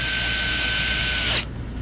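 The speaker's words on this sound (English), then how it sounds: "I used a drill to pre-pilot the holes." An electric drill boring pilot holes for an RV slide topper on a truck camper whines loudly and steadily at close range, then winds down abruptly near the end, leaving a low hum.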